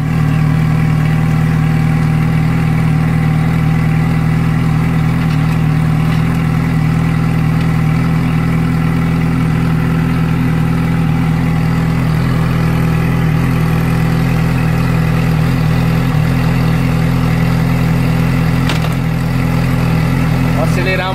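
A motorcycle engine idles loudly and close by for about twenty seconds with a deep, steady hum, while the throttle is blipped now and then to raise the revs slightly.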